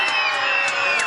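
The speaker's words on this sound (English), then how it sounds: "you hear that sort of cheering?" A crowd at a medieval fayre in Doonside screams as loud as it can on cue, a dense, sustained wall of high-pitched yelling and cheering, loud and close throughout.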